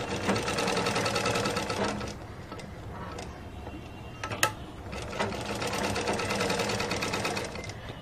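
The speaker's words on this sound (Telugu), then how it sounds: "ఇలా మొత్తము డబుల్ స్టిచ్చింగ్ చేసేసుకోవాలండి" A sewing machine runs in two steady bursts of rapid, even stitching while double-stitching cloth for a top, with a quiet pause and a faint click between them.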